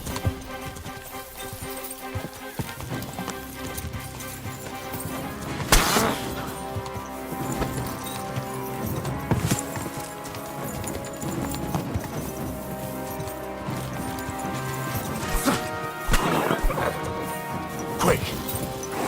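Horse hooves clip-clop steadily in the medieval video game Kingdom Come Deliverance 2, close and rhythmic throughout, with occasional crashes, clatters and voices of a fight mixed in.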